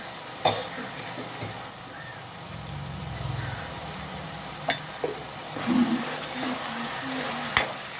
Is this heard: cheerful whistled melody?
no